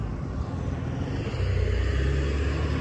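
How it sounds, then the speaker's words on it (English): A car passes nearby, its engine and tire rumble swelling to a loud, low roar over a few seconds against outdoor background noise, with no talk. "pardon the car"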